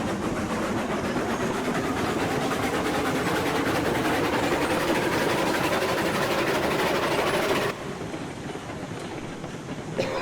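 A Climax steam locomotive runs in the video game Railroad Online, a loud, continuous chugging rumble with rhythmic rail clatter that drops slightly in level near the end.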